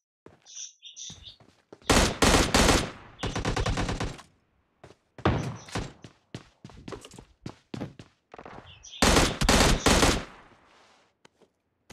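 Bursts of rapid automatic gunfire in a video game, loud volleys separated by short pauses, with a voice speaking briefly in between.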